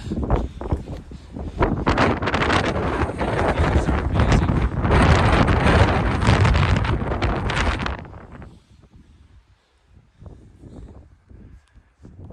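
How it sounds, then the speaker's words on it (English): Strong wind gusts roar across an exposed rocky summit, Saint Charles Peak in the Sangre de Cristo Mountains, buffeting the microphone loudly for about eight seconds before easing into quieter, intermittent gusts. "There's just been frequent wind gusts"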